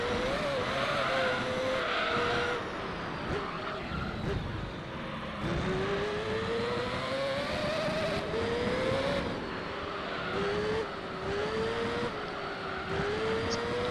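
A Mazda 787B race car in Gran Turismo 3 drones steadily at high revs, its pitch climbing through gears with brief drops at each shift, heard continuously with faint commentary underneath.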